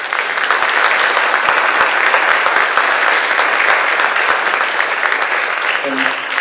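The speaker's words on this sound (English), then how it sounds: "So one more round of applause from Mr. Nottelmann." An auditorium audience applauds at a school building opening, a dense, steady wash of clapping from many hands that fills the room loudly and continuously throughout.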